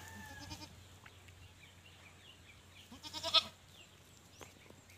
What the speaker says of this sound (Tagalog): Yan yung bago nating kambing.